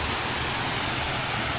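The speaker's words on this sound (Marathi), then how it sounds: "किती मस्त वाटतंय आवाज ह्याचा त्या पाण्याचा." A monsoon stream on the Pabe ghat near Velhe rushes in a loud, continuous broadband roar, close by and unbroken, with no voices.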